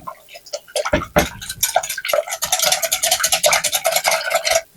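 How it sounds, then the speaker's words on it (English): Egg mixture for egg pie being whisked in a bowl, a quick rhythmic run of light clicking taps that speeds into a steady patter, close and fairly loud. "Whisk it up"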